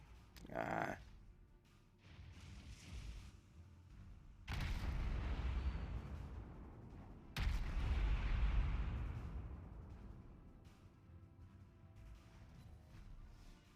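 Deep booming explosions in World of Warships as a ship's ammo rack detonates, with heavy rumbling blasts that swell and fade over several seconds, preceded by a sharper shot, heard fairly quietly.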